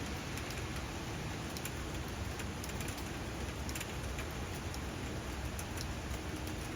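Steady rain falls outdoors where a hawk perches and bathes itself, a dense continuous patter with scattered brighter drop ticks, even and unbroken throughout, with no voices.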